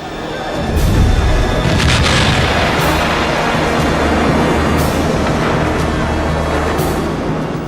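Cannons fire during the 1453 Ottoman siege of Constantinople: a loud, dense rumble with repeated deep booms spread across the whole stretch.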